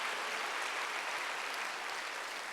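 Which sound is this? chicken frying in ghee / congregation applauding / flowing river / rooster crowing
congregation applauding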